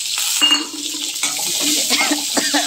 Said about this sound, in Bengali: পেঁয়াজটাকে একটু ভাজবো, পেঁয়াজটা একটু ভালো করে ভেজে নেব